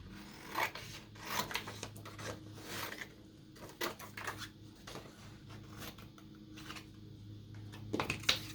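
Scissors cutting a jar shape out of paper, a series of short close snips and rustles in an irregular rhythm over a low steady background hum.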